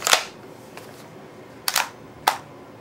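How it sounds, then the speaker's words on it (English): A magazine is seated into a KWA KMP9 airsoft gas blowback gun, producing a few sharp, close plastic-and-metal clacks spaced apart, with a quiet background and no talking. "Putting the mag in the gun"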